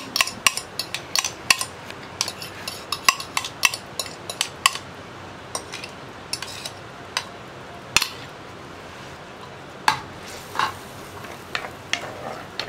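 A spoon scrapes and clinks steadily in a pot while curd is stirred into drumstick leaf buttermilk curry, a run of sharp metallic taps over a quiet background with no speech.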